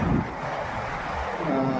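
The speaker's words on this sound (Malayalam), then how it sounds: "എന്തായാലും നല്ലൊരു കാറ്റ് വരുന്നുണ്ട്." Strong wind buffets the microphone while someone fishes for catfish outdoors, a continuous rushing roar with gusts swelling at the start and end.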